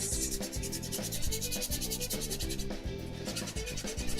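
A sculpture being sanded by hand with sandpaper: rapid, rhythmic back-and-forth rasping strokes, close and fairly steady with a brief pause near the end, no talking.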